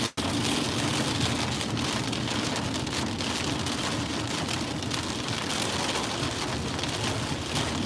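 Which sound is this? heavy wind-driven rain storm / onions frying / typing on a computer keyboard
heavy wind-driven rain storm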